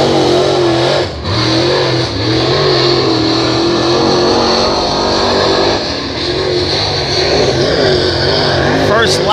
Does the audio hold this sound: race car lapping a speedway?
yes